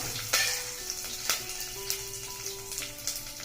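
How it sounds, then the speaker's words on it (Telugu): Crushed garlic cloves and curry leaves fry in hot tempering oil, a close, steady sizzle broken by a few sharp crackles and pops as the leaves hit the pan. "నాలుగు వెల్లుల్లి రెబ్బలు నలగొట్టుకొని కొంచెం కరివేపాకు ఈ రెండు వేసి వేగనిద్దాం"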